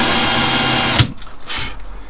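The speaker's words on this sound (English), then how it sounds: "if you just countersink the hole, that will stop you from chipping all the gel coat." A power drill countersinks a hole in a boat's gel coat, whirring steadily and close up for about a second before stopping abruptly, followed by quieter handling noise.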